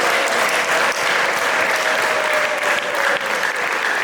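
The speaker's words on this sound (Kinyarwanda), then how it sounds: "Dukomere Imana amashyi" A congregation at a church sermon breaks into loud, sustained clapping that fills the room evenly from start to finish, with no voice over it.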